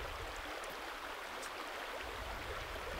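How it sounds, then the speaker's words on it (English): A river flows in a steady, broad rush of water, faint and continuous without any breaks. "This river I bathed in every day."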